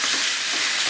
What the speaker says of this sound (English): I'm just frying that off.